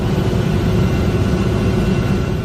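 Rescue helicopter flying over a flooded area, a loud continuous low rotor and engine roar with a dense even rumble throughout, close and steady.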